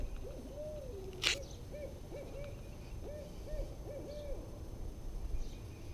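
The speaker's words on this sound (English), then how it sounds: "Been trying to get this Hoot Owl on video for a long time." A resident hoot owl calls from a backyard with fruit trees and grapevines, giving a series of soft, repeated hoots at moderate distance over a steady outdoor hum.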